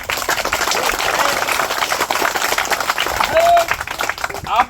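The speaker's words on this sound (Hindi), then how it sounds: "रो रो कर तालियां बजाइए उस्ताद" An audience at a street magic show claps in a busy outdoor crowd, dense continuous applause with a voice talking over it and a brief whistle-like tone partway through.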